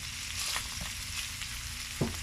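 Bacon frying in a pan for spaghetti bolognese as chopped onion goes in: a steady, close sizzle that stays fairly even, with a brief louder crackle near the end and no talking.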